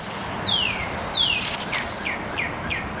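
Birds sing outside in early spring after a long winter: a series of clear, high descending whistles and short chirps, fairly distinct over a quiet background hiss, with no talk.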